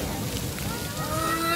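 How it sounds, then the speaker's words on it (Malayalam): Sea waves surge through a rock blowhole at Marneef Cave in Salalah, making a steady, close, broadband rushing and hissing roar that holds across the moment, with faint voices nearby. "ആ തിരയുടെ പ്രഷർ കാരണം ഇത് കേൾക്കാം,"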